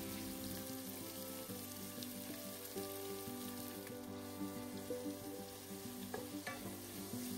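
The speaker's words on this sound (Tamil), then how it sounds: "வெங்காயத்தை சேர்த்துட்டு நல்லா வந்து வதக்கிக்கலாம்." Sliced onions sauté in hot groundnut oil with cinnamon, cloves and cardamom, a soft, steady sizzle with occasional stirring scrapes, heard quietly and without talk.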